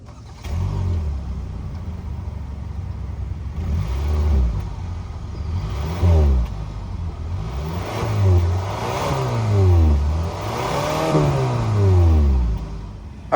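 A 2021 Hyundai Sonata SE with a 2.5-liter four-cylinder engine fires up and revs repeatedly, each rise and fall in pitch loud and close, with no talking over it.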